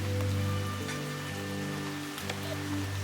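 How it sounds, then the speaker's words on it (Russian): Heavy rain patters steadily on a tent stretched over a forest camp, a dense continuous patter with a low steady hum beneath it and no talk. "Дождь, кстати, жарит. Конкретно."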